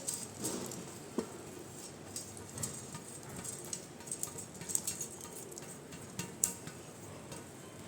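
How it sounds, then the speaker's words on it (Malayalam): Masala tea spices dry roasting in a hot pan give faint, scattered crackles and light ticks close by, with no talking. "ആ പാൻ ചൂടായി വന്നിട്ടുണ്ട് നമുക്കതിലേക്ക് എല്ലാ ഇൻഗ്രീഡിയൻസും ചേർത്ത് കൊടുക്കാം"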